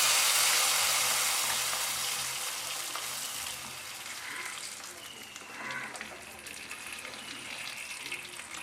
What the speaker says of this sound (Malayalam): അതിലേക്ക് കടുക് കൂടി വറുത്ത് ഒഴിക്കാൻ പോകണം.